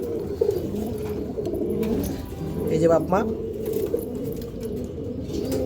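Pigeons coo in a loft of flying and breeder birds, a short rolling call mid-clip under a nearby man's speech, with softer cooing around it.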